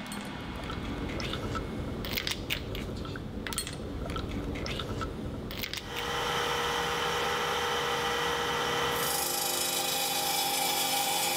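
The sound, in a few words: glass being worked by abrasion with diamond tool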